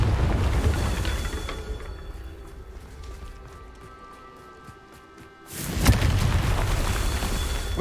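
Confringo fire spell exploding in Hogwarts Legacy on PS5, a loud boom that erupts after a quieter stretch of footsteps and rumble, followed by sustained blast noise.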